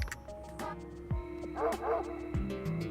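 Cartoonish dog barks in the video game Super Mario Maker, a few short yips and bow-wows scattered over game music and sound effects, clear and close.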